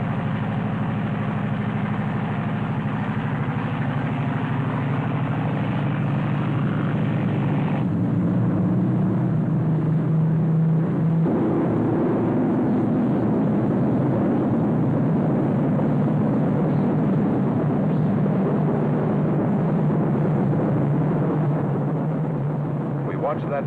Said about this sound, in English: Watched that plane take off.